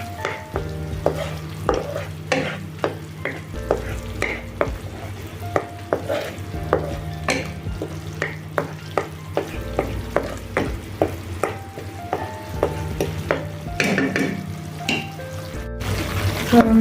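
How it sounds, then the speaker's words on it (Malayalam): Paneer and vegetables are stir-fried in a pan, with rhythmic scraping and tapping stirring strokes over a continuous low sizzle and a faint steady hum, without any speech. "നന്നായി ഇളക്കി കൊടുക്കുക. അതിൻ്റെ കളറൊന്ന് ചേഞ്ചായി വരാൻ തുടങ്ങും, ഒന്ന് ഫ്രൈ ആവാൻ തുടങ്ങുമ്പോൾ"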